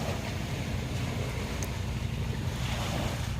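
Ocean waves wash onto a beach during a picnic, a steady, broad rushing roar with wind buffeting, continuous and fairly loud with no talk.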